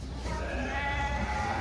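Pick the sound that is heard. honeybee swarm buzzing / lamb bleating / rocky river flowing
lamb bleating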